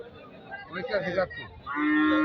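Murmured voices give way to a cow letting out a long, loud moo close by, amid a busy crowd at Jamalpur cattle market in Gazipur.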